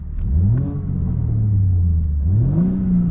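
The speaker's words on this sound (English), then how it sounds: "You'll see that the engine is now in Sport Plus. Burbles are on, but the valves are still closed." A 2024 BMW M4 Competition xDrive in Sport Plus with burbles on and exhaust valves closed revs through several rising and falling sweeps, a loud, close, smooth engine drone that dips and climbs again.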